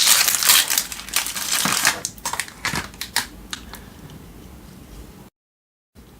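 HP setup ink cartridge for a DeskJet printer being unwrapped, with close, loud crinkling and tearing of plastic packaging for about five seconds, ending abruptly.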